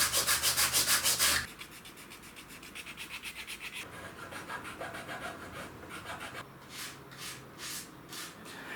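Sandpaper rubs back and forth across a wooden watch, first as a fast, loud, close scratching burst, then as a softer, steady rhythmic rasp of repeated strokes that continues for several seconds.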